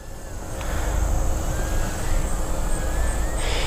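An S105 mini brushed RC drone flies automatic funnel circles, its tiny motors giving a steady high whine over a loud, rushing wind-like roar.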